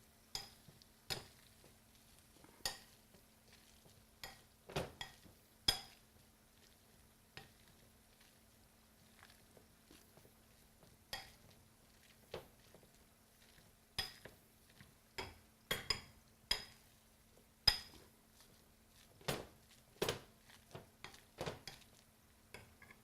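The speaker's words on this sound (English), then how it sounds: "I'm just going to start to mash up the sweet potatoes." Baked sweet potatoes seasoned with cinnamon, nutmeg and paprika being mashed with a hand masher in a pan, sparse sharp clinks and squelchy thumps in irregular bursts against near silence.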